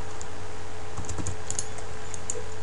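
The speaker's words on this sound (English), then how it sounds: "hit 4 on the keyboard" Computer keyboard keys pressed while working in 3ds Max, a handful of sharp close clicks bunched together, then a few scattered taps over quiet room hum.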